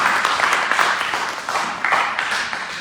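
A small church congregation applauding during a Sunday service, brisk close clapping that swells and dips in waves through the short clip.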